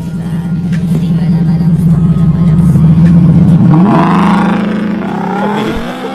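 A motorcycle engine idles loudly and close, then revs sharply and rises in pitch as the bike speeds off, its drone fading somewhat toward the end.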